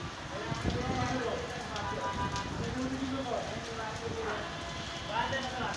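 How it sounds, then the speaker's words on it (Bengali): Heavy rain pours during a storm in Dhaka, with winds of 60-70 km/h, as a steady, broad wash of noise; a voice talks over it throughout. "প্রচুর বৃষ্টি হচ্ছে"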